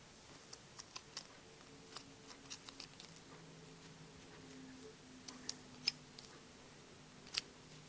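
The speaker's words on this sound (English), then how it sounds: "if you got any longer loose ends, I like to cut them" Scissors snip loose yarn ends on a crocheted Notre Dame beanie, giving a scattered series of short, crisp clicks and snips at uneven intervals over a quiet, low room hum.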